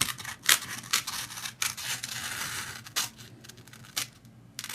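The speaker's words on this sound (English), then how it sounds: "we are going to cut around here and then fold this over so we can stitch it together" Scissors cut through embroidery stabilizer on a Santa doll project, a series of crisp snipping strokes at irregular intervals, close and fairly quiet with no one talking.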